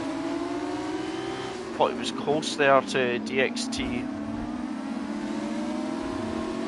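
Formula 2 race car engines at a Round 4 race, a steady high-pitched whine rising in pitch as the cars accelerate, running continuously under a commentator talking over them.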